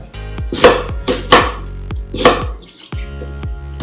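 A knife hacks through an onion on a cutting board, about half a dozen sharp, loud chops in an irregular rhythm, close and otherwise quiet.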